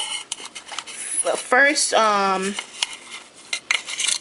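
Fork mixing in a dish while cooking Haitian conch, quick clinks and scrapes of metal on the bowl up close, with a short spoken word and voice-like tones in the middle.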